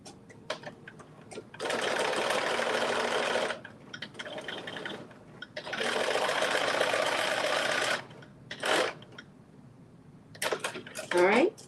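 Home sewing machine set to a basting stitch, running in two long bursts of steady motor whir with shorter spurts and handling clicks between them, fairly close and moderate in level.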